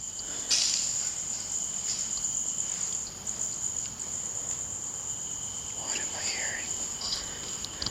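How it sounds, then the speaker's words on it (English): An unseen cricket chirps indoors among rocks, a steady high continuous trill running throughout over faint whispering and low room noise. "there's like a cricket in here. I can't even see it."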